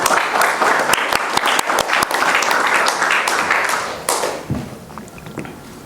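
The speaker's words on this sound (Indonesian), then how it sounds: "tepuk tangannya dong." An audience at a DevOps meetup applauds with brisk, dense clapping close by. It tapers off after about four seconds, leaving a few thumps and low murmurs.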